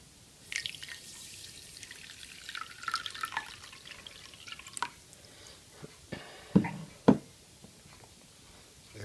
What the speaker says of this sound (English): Then you want almost a cup of water.